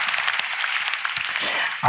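A church congregation applauds during a Sunday worship service, a steady wash of many hands clapping throughout, with a brief louder burst near the end.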